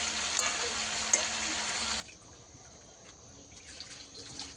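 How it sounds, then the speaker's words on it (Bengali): Water poured from a vessel into duck meat being braised in a pan; a steady, close splashing hiss runs for about two seconds, then drops away to quiet bubbling and faint kitchen background. "এখন একটু কষানোর জন্য জল দিয়ে দেবো"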